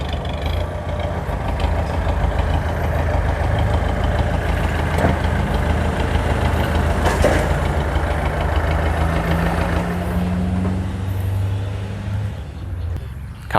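A Kubota L4708 tractor engine runs steadily and loudly throughout, a constant low rumble with a rhythmic knock and faint mechanical rattle, no voices.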